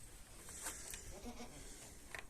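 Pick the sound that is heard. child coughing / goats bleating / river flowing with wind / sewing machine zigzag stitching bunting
goats bleating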